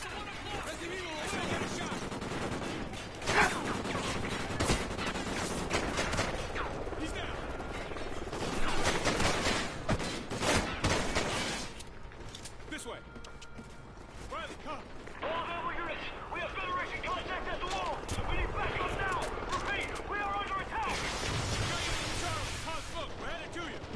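Sustained gunfire in a Call of Duty battle, with bursts of rifle and machine-gun shots and crashes running through the whole stretch, loud and dense, with radio-style squad voices talking over the shooting.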